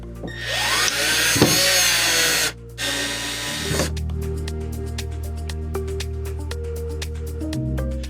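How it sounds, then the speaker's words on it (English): A power drill drives the screws of a wall mount into wall anchors. There are two long, loud whirring bursts with a short pause between them, then a steady lower hum follows, with no talk. "use the provided screws to screw into the anchors"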